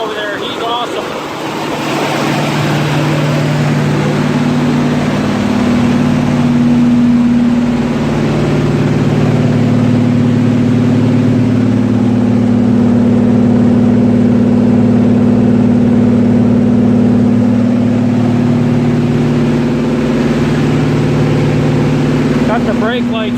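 A Buick car engine idles steadily with a loud, continuous low rumble close by, running smoothly throughout.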